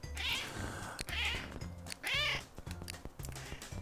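Cats meow repeatedly in the CatNab video game, with three clear rising calls at a steady pace over low game music.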